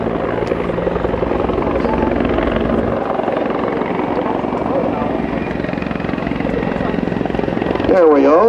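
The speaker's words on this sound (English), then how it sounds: "he can give us a demonstration of some of the maneuvering capabilities of the Griffon" A CH-146 Griffon helicopter flying a maneuvering demonstration at an Air National Guard open house airshow, its steady loud rotor and turbine drone continuous throughout, with a voice talking over it near the end.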